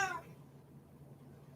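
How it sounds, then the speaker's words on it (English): A house cat meows once, briefly and fairly faint, at the door wanting to be let out, followed by quiet room tone. "Open the door. The cat wants out."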